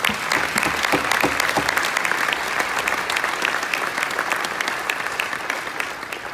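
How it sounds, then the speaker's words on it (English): Sustained applause from a sizable crowd, loud and steady throughout, with dense clapping and no voices standing out. "Please help me give Angie another round of applause for being a great friend."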